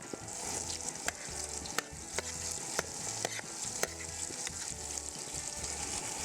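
Four large sliced onions frying in oil in an uruli, a dense steady sizzle close by, with repeated sharp clacks from a stirring utensil against the vessel across the whole stretch.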